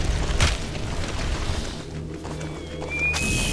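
A mortar bomb explodes in the video game Anno Domini as a deep, rumbling boom with a sharp onset and a heavy low tail that lingers throughout.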